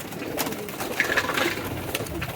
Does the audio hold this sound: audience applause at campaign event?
no